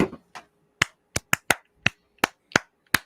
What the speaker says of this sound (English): That was my coming back clap.